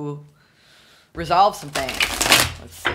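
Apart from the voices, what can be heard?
shuffling tarot cards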